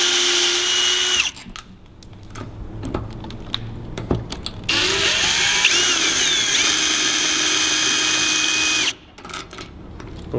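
A power drill backs out the two screws holding a rim cylinder lock on a push-bar exit door, whirring in several close bursts with ratcheting, clicking mechanical noises between them.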